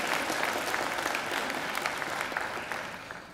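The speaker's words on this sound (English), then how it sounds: "I think she deserves another great round of applause." Graduation ceremony audience applauding steadily, a dense wash of clapping from a large crowd that fades slightly toward the end.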